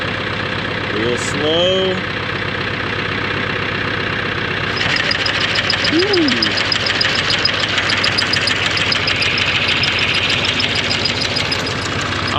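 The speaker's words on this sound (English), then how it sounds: "1500 RPMs. PTO is engaged. Let's go ahead and bring the clutch out." A farm tractor running at about 1500 RPM with the PTO engaged on a hay implement and the clutch let out: a steady mid-low engine drone that rises slightly partway through. Brief speech is heard over it.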